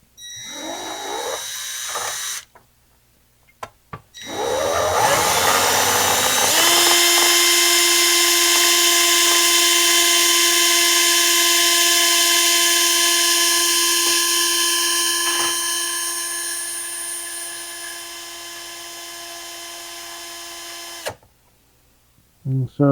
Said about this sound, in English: so it may take longer to drill this hole.